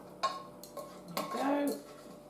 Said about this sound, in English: So I'm throwing all that into the saucepan.